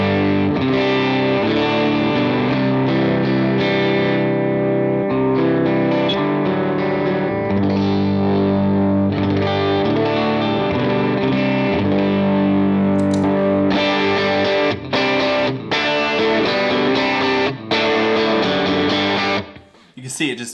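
Electric guitar plays through an overdriven AC15 amp preset on a Jackson Audio Broken Arrow V2 pedal, giving a loud, gritty sustained tone with bright chord stabs near the end.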